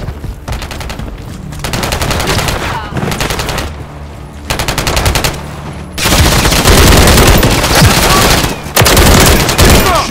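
Rapid automatic gunfire from a battle rifle in Call of Duty Modern Warfare 3, loud dense bursts of shots with short pauses between volleys, up close, with faint game voices mixed in.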